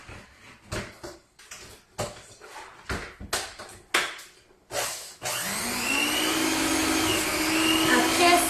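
Cream cheese and vanilla cheesecake batter being prepared, first a series of sharp knocks and clatters, then an electric mixer starting up and running with a steady loud whir until the end.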